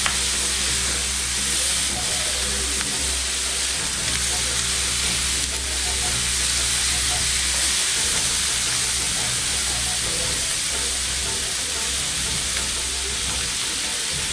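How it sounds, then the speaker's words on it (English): Kielbasa, peppers and onion sizzle steadily in a hot pan while being stirred, giving a continuous close frying crackle with a low rumble underneath, and no voices. "Now we're going to start mixing it all in."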